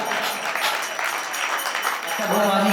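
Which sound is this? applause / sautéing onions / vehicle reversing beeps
applause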